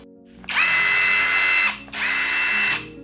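A Narion 16.8V cordless impact driver runs in two bursts of about a second each, a loud high whirring buzz with a brief pause between, close up and without talk.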